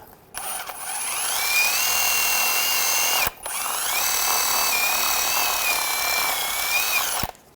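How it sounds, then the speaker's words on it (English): A power-driven wire brush scrubs heavy rust off front driveshaft parts from a 2009-2010 BMW 535i xDrive, a close, loud whining grind running in two long bursts separated by a brief pause, with no speech. "Just because there was a lot of rust on this one, I'm just using a wire brush, just clean this up a little bit."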